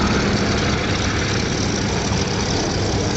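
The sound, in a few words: Westland Lynx Mark 8 helicopters, rotor noise and Rolls-Royce turbine whine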